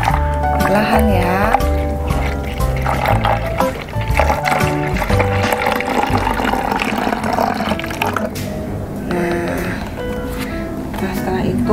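Water being poured slowly for a simple children's air pressure science experiment, a soft liquid trickle heard beneath steady talking and background music.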